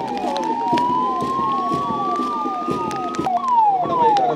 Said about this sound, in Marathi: रुग्णवाहिका रस्त्यावरून धावत असेल तेव्हा तिला वाट मोकळी करून देऊन